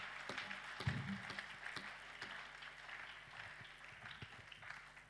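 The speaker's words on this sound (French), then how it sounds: "Applaudissons aussi la nation de la RDC." A church congregation at a Wednesday service applauds faintly and steadily, a soft wash of distant clapping with a few louder claps early on.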